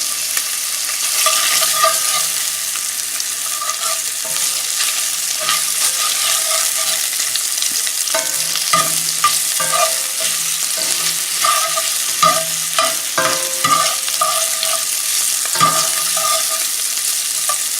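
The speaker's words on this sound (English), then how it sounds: "And you want to brown your meat" Meat browns in olive oil in a skillet with a steady, loud, close sizzle that runs the whole time. Faint scraping and stirring clicks sound through it, and no one talks.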